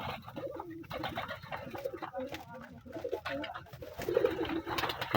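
Pigeons kept in a home loft coo softly and repeatedly in low, rounded calls, close by, mixed with light bird chatter and rustling throughout.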